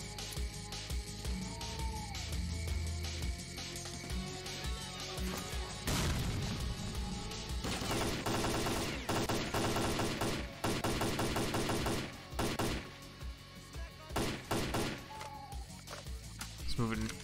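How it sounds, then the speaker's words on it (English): Sustained gunfire from a firefight across a bridge in S.T.A.L.K.E.R. Clear Sky, with rapid automatic bursts and scattered loud shots that grow denser midway, mixed with in-game noise. "A lot of gunfire back towards the other side of the bridge."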